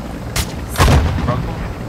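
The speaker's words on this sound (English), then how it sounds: "Where are we getting shot at from?" Gunfire in the video game Warzone 2.0: two sharp shots, the second a heavier booming blast that rumbles and fades, with faint game noise around them.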